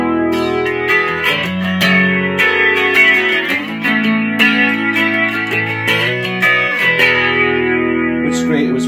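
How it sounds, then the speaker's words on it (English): Electric guitar played through the flanger effect of a Yamaha THR5 practice modelling amp, a continuous swirling sweep over strummed chords and single notes that stays loud throughout. "It'll increase a little bit until you switch over to the next area, which is the flanger"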